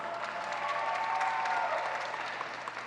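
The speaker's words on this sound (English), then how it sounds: "Give them a big round of applause" A graduation audience gives a steady wash of applause that sounds fairly distant and quiet, with no distinct voices on top.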